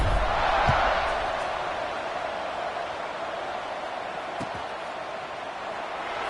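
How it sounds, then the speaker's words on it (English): Steady broadband crowd roar fills a college football stadium, a loud buzzing wash of many distant voices that swells at first and then holds even, with a couple of faint thumps. "this crowd is buzzing after that last score"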